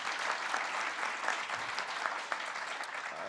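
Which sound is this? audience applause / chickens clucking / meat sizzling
audience applause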